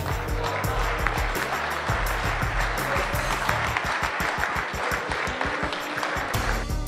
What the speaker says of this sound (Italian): Cantoni, un applauso al poeta della birra